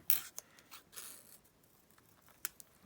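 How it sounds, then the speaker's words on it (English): Scissors trimming a paper butterfly cutout give a few quiet, crisp snips and rustles spaced across a short stretch, close by with no talking. "This butterfly just needs a little bit more trimming."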